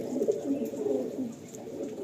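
Young pigeons coo softly and repeatedly in low, rolling murmurs, close by and unbroken for the whole stretch, with no voices.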